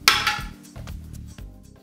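Wood offcuts from band-saw cutting land in a cardboard box in a workshop. A sharp, loud knock comes first, followed by a few lighter clattering thumps, with no voices.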